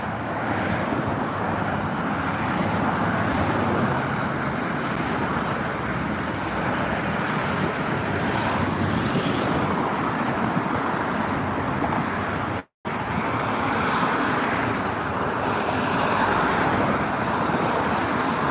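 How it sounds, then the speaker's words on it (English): Road traffic passes steadily on a cold, windy evening, a continuous loud rumble and hiss of cars and other vehicles nearby, with wind buffeting the microphone and a brief dropout partway through. "and there's the traffic"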